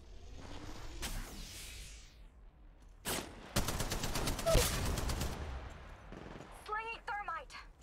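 Bursts of automatic weapon fire crackle in an Apex Legends ranked battle royale match, separated by short gaps, with the dense volley in the middle being loudest; a game voice speaks between shots.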